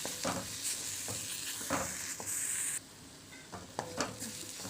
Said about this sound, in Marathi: तिखट मसाला 1 चमचा, काश्मीरी पावडर 1 चमचा आणि चांगले हलवायचे, ते एकजीव करायचे।